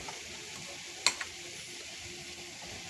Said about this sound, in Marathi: आपण आता हे थोडस हलवून घेऊया